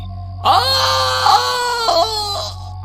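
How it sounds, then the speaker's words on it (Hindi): A loud, terrifying scream rings out as a horror sound effect. It is a sustained high wail of about two seconds, with a few cracking breaks, heard alone over a low steady hum. "एक जोरदार भयानक चीख की आवाज आई।"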